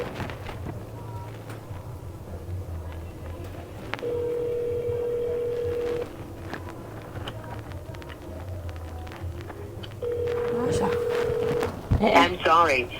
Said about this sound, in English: You see the phone a ring and he don't want to answer it.